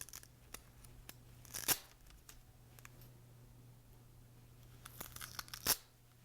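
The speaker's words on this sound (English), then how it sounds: "Remove the Velcro tape." Velcro tape is peeled off a data logger in two short ripping bursts, close and crisp, with a few light rustles and clicks against a low hum.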